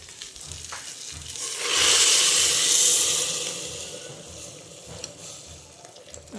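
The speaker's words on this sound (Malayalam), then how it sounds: "ഇതിലേക്ക് നമ്മൾ തിളച്ച വെള്ളം അങ്ങോട്ട് ഒഴിച്ചു കൊടുക്കാൻ പോവുകയാണ്" Boiling water poured into a pot of prawn biryani raises a loud hissing, bubbling surge that swells for a few seconds, then eases back into a steady sizzle with faint scraping in the background.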